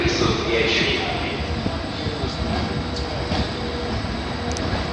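An Intercity train rumbles steadily through Roma Ostiense station, with wheel and rail noise that stays loud throughout and no voices on top.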